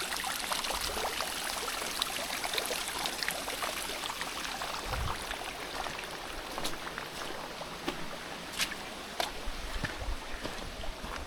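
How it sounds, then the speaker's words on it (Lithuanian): A mountain stream on Madeira rushes and burbles steadily over rocks, a close, dense broadband wash of flowing water with no talk, lasting throughout. "Parbėgu upelis iš kalnų."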